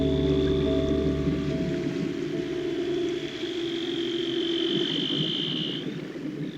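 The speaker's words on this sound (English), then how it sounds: "Antarctic explorers of all have reported hearing from above the sound of seals calling to each other below." Seals call to one another beneath Antarctic ice, with long sustained tonal whistles and a high gliding trill over a steady underwater hiss, fairly loud and without voices.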